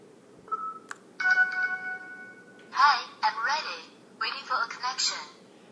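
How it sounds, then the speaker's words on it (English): A Star Trek communicator toy made as a Bluetooth speaker plays a short electronic chirp and a warbling tone, followed by bursts of synthesized voice-like chatter that come from the device. "All the sounds you're hearing are coming from the Star Trek communicator."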